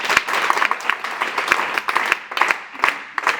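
An audience claps together in a group exercise on collective behaviour, producing loose, partly synchronized bursts of handclaps in a rough repeating rhythm, close and moderately loud.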